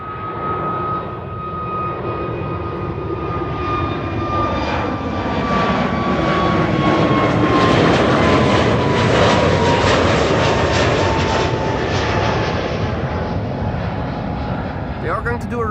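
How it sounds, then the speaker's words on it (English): A KLM jet airliner takes off from Amsterdam Schiphol, its engine roar swelling and building into a loud sustained rumble before slowly easing as it climbs away, with no talk over it. "next departure, taking off over there, KLM flight 1475"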